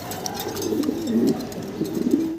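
Fancy pigeons, a pair of King-type breed birds, coo in soft throaty low rolling calls repeated steadily through the moment, close by with faint rustling behind and no voices.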